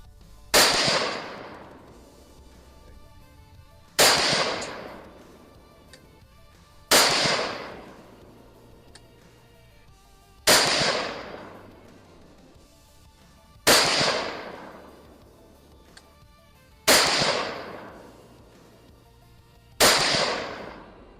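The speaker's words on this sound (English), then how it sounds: "Do not know when the gun's going to go off." Rifle shots fired during marksmanship testing, heard as six loud, sharp reports spaced roughly three seconds apart, each trailing off in a short echoing decay, with no talking in between.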